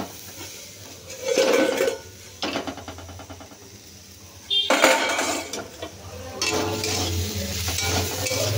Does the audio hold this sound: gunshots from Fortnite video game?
no